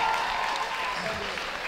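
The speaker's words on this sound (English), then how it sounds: "Give him another round of applause," Audience applause at a local variety show or charity event, a steady dense clapping crowd filling the room throughout, fairly loud and close, with no speech over it.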